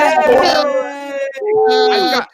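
Dog in the background of a panel show giving howling, whimpering yips, loud and drawn out, with talk mixed in around it.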